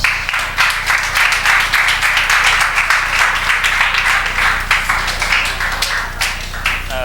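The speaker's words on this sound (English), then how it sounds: "A round of applause for Mama" A crowd claps steadily and loudly, a dense patter of many hands that carries on evenly throughout without voices breaking through.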